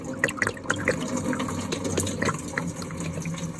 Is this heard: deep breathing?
no